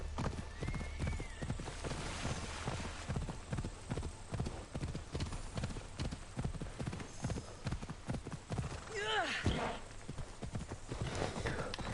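Rhythmic clip-clop of horse hooves at a steady trot in Assassin's Creed Odyssey, with a loud neigh rising and falling near the end.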